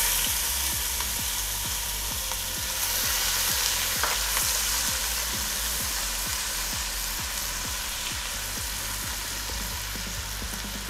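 Sliced onions sizzle steadily in hot, well-seasoned oil. The frying hiss stays constant and close, with small crackles and pops running through it and no talking.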